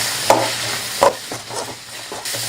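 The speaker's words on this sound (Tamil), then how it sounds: "இப்போ கட் பண்ணி வச்சிருக்கிற தக்காளியும் போட்டு ஒரு 2-3 நிமிஷம் நல்லா வதக்கிக்கலாம்." Vegetables and chopped tomatoes sauté in a pan for vegetable Maggi, giving a steady low sizzle broken by two sharp scraping stirs near the start and softer stirring after, close and fairly quiet with no talk.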